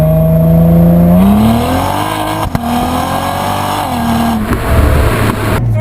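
A 2016 Cadillac ATS-V with an automatic transmission revs and pulls hard while being driven, its loud engine note rising through several gear changes, heard close from the cabin with no one speaking.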